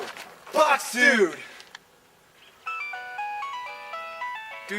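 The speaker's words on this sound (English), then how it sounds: "Dude, your phone's ringing." A mobile phone ringtone plays a bright, repeating electronic melody loud and close after a burst of shouting, continuing steadily to the end.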